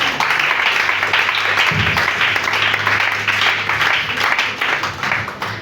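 A church congregation applauds and cheers in praise of Jesus Christ, a loud, continuous wash of clapping from a large crowd that holds steady for several seconds.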